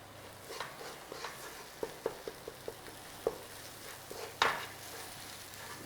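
Spice paste for a beef curry sizzles softly in a pan while a utensil stirs it, with a steady faint fry under a series of light scraping taps, one sharper knock near the end.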